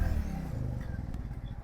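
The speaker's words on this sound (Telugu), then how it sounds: "బైక్ రేస్ కూడా ఇస్తున్నాను బాగా" A motorcycle engine revs briefly nearby, a low throbbing drone with quick pulsing beats, heard outdoors during a short ride.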